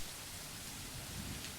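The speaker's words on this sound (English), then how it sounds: "The rhythmic pitter-patter of the rain fills the early morning silence with a steady beat." Steady rain falls in a video game, a soft, even hiss of patter with faint low rumbling underneath, no voices.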